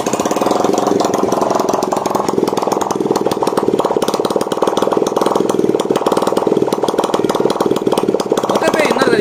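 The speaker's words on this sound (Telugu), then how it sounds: "ఒకసారి మీరు ఇంజిన్ బీటింగ్ అయితే చెక్ చేయండి" A repaired motorbike engine, about 80% rebuilt, runs at a steady, loud idle with a fast, even beat and no pauses throughout.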